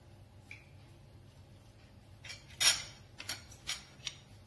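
A knife scoops the flesh out of a cooled baked potato, making a few faint scraping and clicking sounds, quiet and close, in short bursts toward the end.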